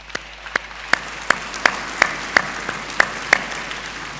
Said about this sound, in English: Can we all recognise that with a round of applause?